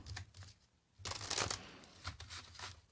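Tarot cards being shuffled by hand in quick papery bursts, faint and close, with soft riffling and crinkling pulses separated by brief pauses.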